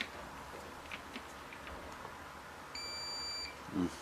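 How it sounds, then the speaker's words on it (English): A multimeter sounds one steady high beep for under a second during a continuity test on a laptop AC adapter fuse, clear against a quiet room hum. "do a continuity test on the fuse"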